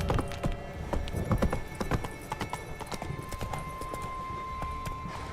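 Roach the horse gallops in The Witcher 3, a steady run of close, loud hoof clip-clops with an occasional whinny, under a background hum of game music.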